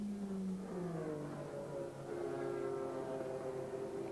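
An Audi Le Mans prototype race car, white number 38, revs and pulls away from the pit lane at Mosport, its engine note climbing in rising harmonic sweeps, fairly distant and steady.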